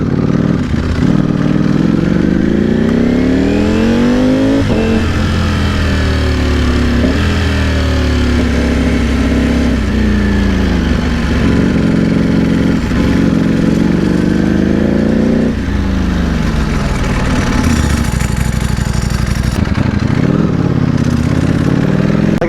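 A 2020 Ducati Panigale V4R's loud, raspy Akrapovic race exhaust roars continuously, climbing and falling in pitch as it accelerates and shifts, close and unbroken for the whole stretch.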